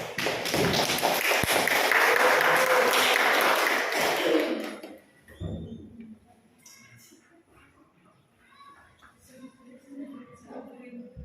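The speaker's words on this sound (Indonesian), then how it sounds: "Beri tepuk tangan." Classroom audience claps after a group presentation in an economics teacher-training session, a loud burst of applause for about four seconds that cuts off, followed by quiet room noise and faint talk.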